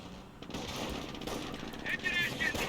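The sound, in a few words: machine gun bursts from a .30 cal in Company of Heroes video game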